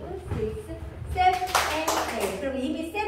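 During a line dance tutorial, a few sharp hand claps ring out close by, mixed in with an instructor talking.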